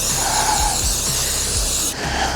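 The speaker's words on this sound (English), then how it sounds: "we're gonna spray a bunch of paint" Aerosol spray paint hisses steadily into pockets on a CAR-15 rifle, a continuous close broadband spray that cuts off sharply near the end, with faint low thumps beneath.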